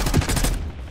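Rapid burst of M16 rifle fire in the Black Ops 6 shooter, several quick close shots in a tight cluster during the first half second, then fading into background noise.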